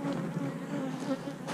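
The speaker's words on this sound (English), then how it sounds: "How are these bees?" Honey bees in a hive of freshly mated queens due to be moved into a five-frame box buzz as a steady, close, dense drone throughout, with no talk.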